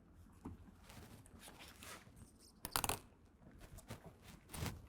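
Adhesive backing peeled off a Husky Liners Low Profile Ventvisor being installed on a 2024 Ford Ranger, quiet close tearing and crackling strips with a louder ripping burst near the middle and another at the end.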